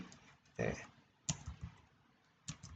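Computer keyboard clicks from copy and paste shortcuts, a few quiet separate taps and short clusters, close and soft, with a voice speaking.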